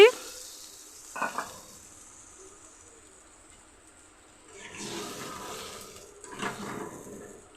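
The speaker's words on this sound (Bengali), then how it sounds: "সবজিগুলি আমার কষানো হয়ে গেছে, এখন একটু জল দিয়ে দিচ্ছি" Water poured onto sautéed ridge gourd and vegetables for a katla fish curry bursts into two loud hissing sizzles after a quiet stretch broken by a brief clatter.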